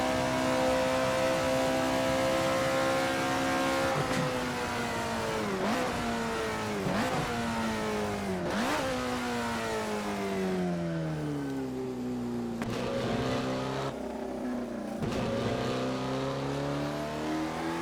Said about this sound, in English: it barks out the exhaust with that backfire on the overrun